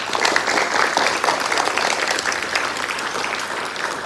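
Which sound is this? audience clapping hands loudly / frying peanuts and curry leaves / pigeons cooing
audience clapping hands loudly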